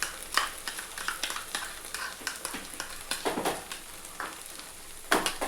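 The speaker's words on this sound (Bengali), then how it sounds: "যখন দইটা মেশাবেন কন্টিনিউয়াসলি নাড়াতে থাকবেন।" Spoon stirring beaten yogurt into a pan on low heat for Bengali doi katla, soft scraping and light sizzling strokes, close but quiet, steady and continuous with no speech.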